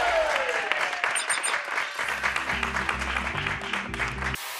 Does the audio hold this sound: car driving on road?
no